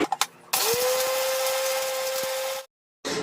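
A mixer grinder whirs steadily as it grinds cardamom pods with a little sugar, a loud sustained motor whine that starts abruptly, runs for about two seconds and cuts off, with a few light clicks before it.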